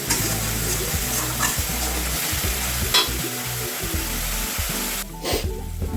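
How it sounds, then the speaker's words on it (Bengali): Spices frying in oil in a pan for a soybean and potato curry, a loud steady sizzle with repeated stirring scrapes throughout, briefly dropping near the end. "তাই মশলাগুলো আমি একটু ভালো করে ভেজে নেব।"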